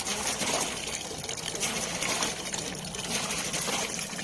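Water from a hand pump, worked by a child helping her mother wash clothes, splashes and trickles steadily with a broad, continuous gush, fairly close and moderately quiet, with no voices.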